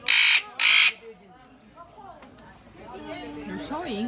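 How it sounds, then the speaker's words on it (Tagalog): A parrot lets out two loud, harsh squawks close by, followed by quieter chattering bird calls and background noise. "itong parrot na to napakaingay."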